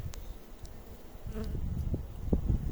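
Honey bees buzz around an open hive during a spring nest inspection, a close, steady hum of many insects with individual wingbeats passing nearby.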